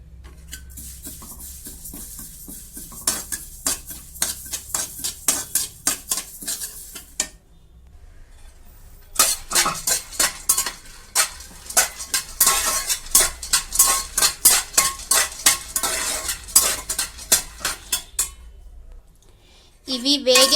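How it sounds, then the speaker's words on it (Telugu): Small seeds roast in a pan over a low flame while a spoon stirs them. The spoon scrapes and clinks against the metal in rapid rhythmic bursts, broken by short pauses, and there is a faint sizzle under it. "ఇవి బాగా సిమ్లో పెట్టి వేయించుకోవాలండి"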